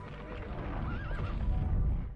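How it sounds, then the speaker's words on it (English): In a video game set in a foggy 19th-century London, a horse whinnies with a wavering call during a fight, over a dense rumbling backdrop with hoof clops. "While fighting, we hear a horse whinny."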